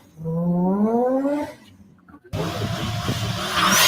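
Mazda RX3 rotary engine revving: a rising growl over a second and a half, a pause, then a loud, rough, sustained run that grows toward the end, close by, no talk.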